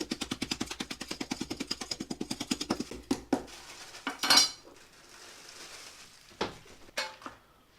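Pistachio nuts being crushed for baklava, a rapid run of close clattering knocks, then a few separate harder cracks and crunches with pauses between.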